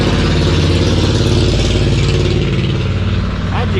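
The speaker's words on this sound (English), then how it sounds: "How'd you get that motorcycle up on the high dive? Quit revving it up." A motorcycle engine revs up loud and close, its steady throaty drone holding for several seconds with slight dips near the end.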